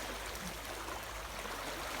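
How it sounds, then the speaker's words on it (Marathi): Water flowing into a mangrove creek fed by a river tributary in the Konkan, a dense, steady rushing wash that fills the whole short stretch without a break. "इथे खाजनामध्ये पाणी येतं"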